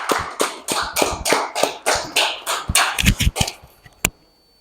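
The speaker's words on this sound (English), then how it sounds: "Can you give him a round of applause?" An audience applauds the speaker with close, rhythmic hand claps that fade near the end, followed by a last single clap.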